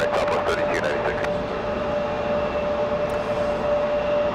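A Southwest airliner rolls for takeoff on runway 5 right at Raleigh-Durham in the rain, a steady, continuous engine roar with a thin sustained whine, heard alongside a voice.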